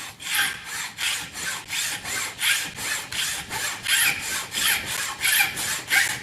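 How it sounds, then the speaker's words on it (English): Steady back-and-forth rasping of a hand saw cutting through wooden rings, about a dozen even strokes in a regular rhythm, close and fairly loud with no voices. "So just sawing through this."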